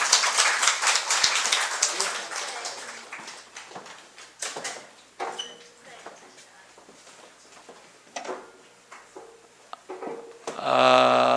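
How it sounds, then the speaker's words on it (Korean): A burst of clapping from a church congregation, loud at first and then trailing off into scattered claps and room noise, with some voices nearby. "우리 박수로 축하합니다"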